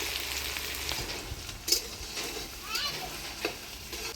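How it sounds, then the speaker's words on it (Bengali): Tomatoes going into reddened fried onions for a village-style duck curry; a quiet, continuous sizzle with a few stirring scrapes and light clinks. "পেঁয়াজটা লাল লাল হয়ে আসছে, এবারে দিয়ে দিচ্ছি টমেটো।"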